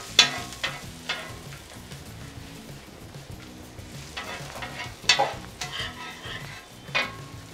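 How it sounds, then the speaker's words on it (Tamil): Chopped onions sizzle softly in a little oil on a flat tawa, with occasional sharp spatula scrapes and stirring clicks over the low, steady frying hiss. "ஆனியன் அது நம்ம தவால பார்த்தீங்கன்னா நல்லா ரோஸ்ட் பண்ணணும்"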